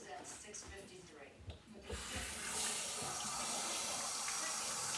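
A tap runs hot water into a container of icy food items at home, a steady full rush of water that starts abruptly and continues loud and even.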